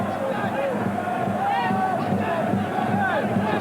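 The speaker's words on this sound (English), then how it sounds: "Everton voices you're hearing in this capacity crowd." Everton supporters in a capacity FA Cup crowd of just over 10,000 at Crewe Alexandra keep up a continuous chanting roar, with voices swelling and rising together, dense and sustained across the whole stretch.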